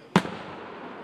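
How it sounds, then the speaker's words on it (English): A single sharp firework bang, close and loud, followed by a fading crackling tail. "every time I see fireworks, you hear all that sound."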